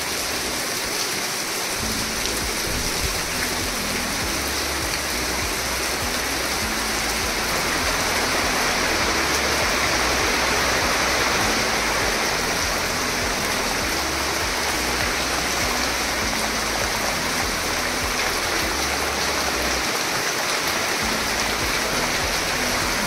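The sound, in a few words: rain falling in a Konkan village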